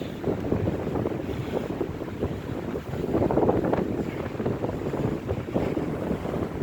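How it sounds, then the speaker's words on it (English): Strong wind roaring and buffeting the microphone in steady, heavy gusts in a cemetery at 2 AM, with no voices. "That's how bad this wind is."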